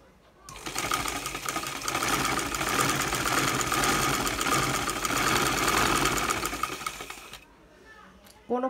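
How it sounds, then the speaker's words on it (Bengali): A sewing machine stitches the side slit of a silk kameez in one continuous run of rapid, even mechanical whirring, close up and moderately loud, then stops, leaving quiet room tone. "ঠিক এই মাপ অনুযায়ী আমি এখন সেলাই করে নিচ্ছি।"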